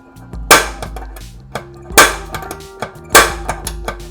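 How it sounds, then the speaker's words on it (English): A hammer drives a center punch to mark a pilot hole for drilling, during a water filter installation. Three sharp, loud metallic blows land about a second apart, with lighter taps in between, close up and with no talking. "It is a center punch tool, so I can make a guiding hole and bore a hole using the guiding hole or a pilot hole."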